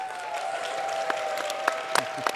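Audience clapping at a live podcast recording at a tech event, a steady wash of hands with a few sharper claps standing out near the end, moderately loud and continuous throughout.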